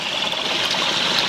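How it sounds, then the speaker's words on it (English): Waterfalls pour into a natural spring pool, a steady, loud, hissing rush of falling water that stays even throughout with no voices. "waterfalls."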